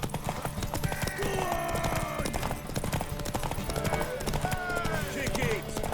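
Horse hooves pound in a quick galloping rhythm in The Witcher 3: Wild Hunt video game, with voices speaking over the steady, close hoofbeats.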